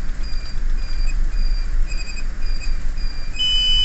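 Ship autopilot off-course heading alarm on a bridge console, sounding as steady repeated high electronic beeps in short bursts over a constant low engine hum, with a sharper tone joining near the end.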